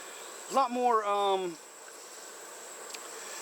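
Honeybees bearding beneath a hive entrance during a summer nectar dearth: one close buzzing drone swells and wavers for about a second, then fades back into a faint, steady background hum.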